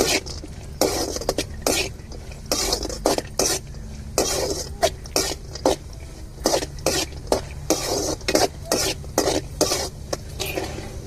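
Fruit frying in ghee in a pan for a coconut-milk kesari, with rapid scraping stirs and clinks of a spoon against metal repeating steadily over a low sizzle, close and fairly loud.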